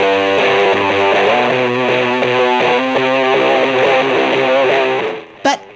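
Ripping distorted guitar tone from an overdrive, delay, modulation and reverb pedal, with chugging rhythmic notes sustained for about five seconds before a brief cutoff and a short final hit.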